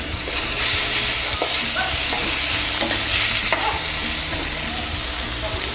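Carrots and beans stir-fried in a pan while making homemade wheat noodles, a steady close sizzle with repeated scraping stirs running through it.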